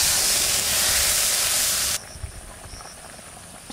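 Water poured into a hot pan of spices and potatoes bursts into a loud, close hissing sizzle for two seconds, then drops to a quieter simmering crackle.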